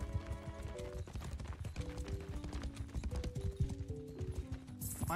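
Horse hooves clip-clopping in the Mount & Blade II video game, a steady stream of overlapping hoof clops at moderate level with a musical soundtrack beneath.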